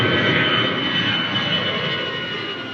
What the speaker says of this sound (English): David Ibbotson is seen on the runway, preparing the plane ahead of the flight.